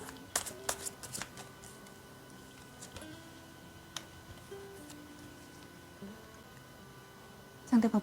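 Tarot cards being shuffled in quiet, brief riffling bursts near the start and again at the end, separated by a near-silent stretch of faint ticks and small rustles.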